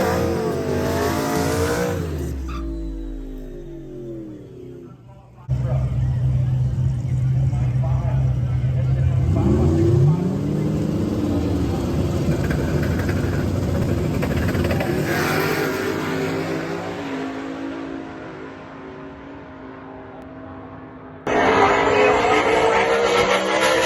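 A street car makes a drag racing pass at a Street Car Takeover event in Kansas City. The engine revs hard and accelerates through rising, falling gear changes, loud and close throughout with brief pauses between pulls.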